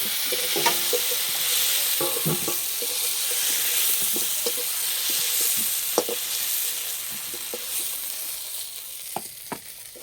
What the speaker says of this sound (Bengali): এইভাবে 2 থেকে 3 বার চাপা দেবো আর ভেজে নেব।